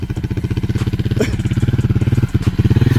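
A motorcycle engine is revved hard with too much throttle while a 14-year-old learns to ride, its loud, steady pulsing drone running continuously throughout at close range.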